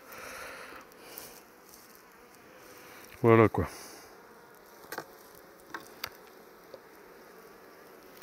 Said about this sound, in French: J'ai coincé une abeille sur le doigt.